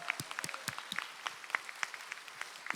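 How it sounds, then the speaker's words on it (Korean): A church congregation at a dawn prayer service claps in scattered, uneven bursts of individual hand claps, moderately loud with a faint room murmur between them. "우리 하나님께 박수를 칠 때는 있는 힘껏 하나님께 치면 좋겠습니다"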